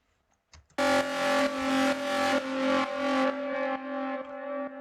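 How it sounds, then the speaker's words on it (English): A gritty, overdriven synth in a techno track plays a series of sustained chords with a harsh, buzzy edge, each swelling and cutting off in a steady rhythm. "Here's one with overdrive to add more like dirtiness and hardness to the synth."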